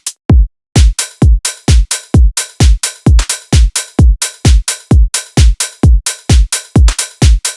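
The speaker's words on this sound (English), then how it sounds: "Right now what we have is the kick and the clap and the hats that will sound like this." A minimal bass drum loop of kick, clap and hats runs at a steady tempo around 85, with deep punchy kicks and bright layered hits repeating in a tight, loud, driving pattern.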